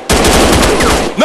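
A burst of rapid automatic gunfire from an Android first-person robot shooting game, Counter Terrorist Strike 2020, loud and close, firing continuously for about a second before cutting off.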